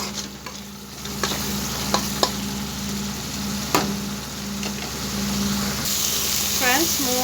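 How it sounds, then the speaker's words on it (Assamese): Spices with turmeric powder sizzle steadily in hot oil in a pan for a boroli fish curry, with a constant frying hiss punctuated by occasional sharp scrapes of a stirring spoon, close and fairly loud. "আৰু অলপ সময় এখিনি মই ভাজি লম"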